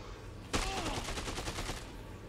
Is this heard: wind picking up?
no